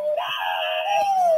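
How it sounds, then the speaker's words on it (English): A screaming goat novelty toy shaped like a reindeer lets out a single loud, wavering, bleat-like scream lasting over a second, close and clear. "That's a screaming goat."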